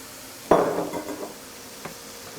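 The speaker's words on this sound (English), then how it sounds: "I'm just going to chuck in some of the tomatoes" Tomatoes tipped into a simmering beef bolognese pan land with one sudden wet splat and clatter, followed by a brief fading sizzle and a faint second knock.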